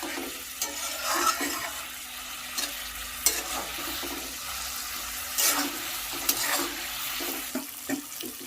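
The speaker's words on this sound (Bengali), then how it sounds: "একসঙ্গে আলু আর মশলাকে আরেকটু সময় ধরে কষে নেব" Fried potatoes and spice paste are stir-fried together for a koi fish curry, a soft sizzle broken by repeated scraping stirs of a spoon against the pan.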